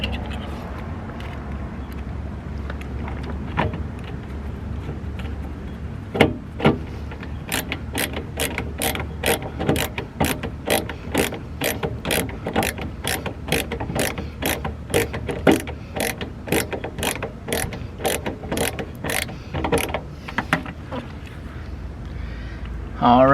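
A ratchet wrench clicks rapidly and steadily while bolts are screwed into a 1998 Toyota Corolla door, a long run of close, evenly spaced clicks following some scattered mechanical handling noises.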